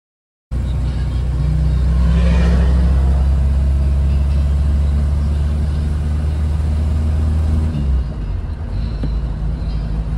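A Morris Minor car climbs the Kaimai Ranges, its engine a steady low rumble held close and loud for the whole stretch, easing slightly near the end.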